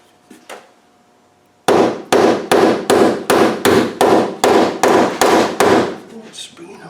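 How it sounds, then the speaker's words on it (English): A hammer strikes metal about a dozen times in a steady rhythm while fitting a heater at the bulkhead of a 300Tdi engine vehicle, each blow loud and ringing, following a couple of faint knocks. "because then you can get a good hammer swing on it"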